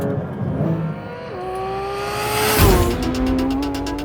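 A Porsche 911 GT3 RS on a track accelerates at around 100 mph, its high-revving engine whining upward through the gears, then a sharp shift and a louder rasping roar as it powers on.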